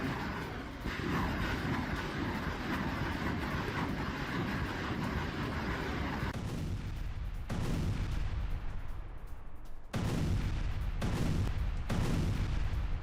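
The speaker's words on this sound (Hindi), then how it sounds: "BM-21 ग्रैड MLRS से फायरिंग की गई है" BM-21 Grad multiple rocket launcher firing, a sustained roaring rush of launches lasting several seconds, then broken into separate loud bursts with brief gaps, heard from a distance.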